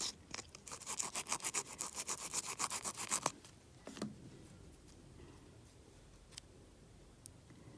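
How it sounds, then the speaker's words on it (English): Rapid rhythmic rubbing strokes of a file sanding the sides of a press-on nail, close and fairly soft, running for a few seconds before stopping and leaving quiet room noise with a couple of faint ticks. "take the sides and like sand the sides so it is smaller"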